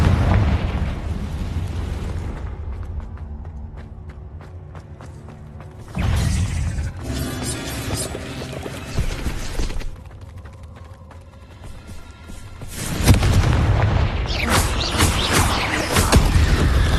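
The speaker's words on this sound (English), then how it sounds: "Confringo!" Heavy booming blasts of the Confringo explosion spell in the video game Hogwarts Legacy, several loud bursts with rumbling decay and clanking effects, no talk.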